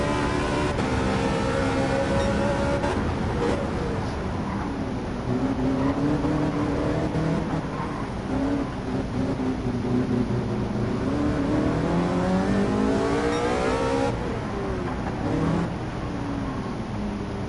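A race car engine in Gran Turismo 7 drones and revs continuously, its pitch sweeping up and down through gear changes, loud and up close with an odd, unusual tone.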